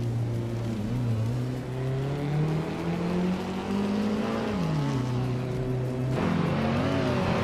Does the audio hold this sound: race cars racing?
yes